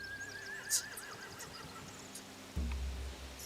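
A horse in a video game lets out a single wavering whinny, quiet and a little distant, followed by a soft hoof thud over a low background hum.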